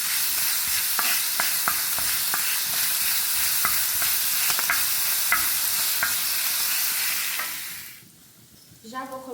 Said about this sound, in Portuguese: vou dar uma fritada na cebola.